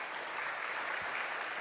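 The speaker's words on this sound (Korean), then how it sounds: "우리 그분들 위해서도 뜨겁게 박수 한번 주시기 바랍니다" Congregation applause during a Sunday morning church service, a brief, fairly quiet stretch of continuous clapping.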